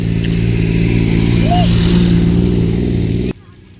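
Motorcycles and cars passing by on a busy road, a steady loud rumble of engines with a brief rising whine, cut off abruptly near the end to quieter background.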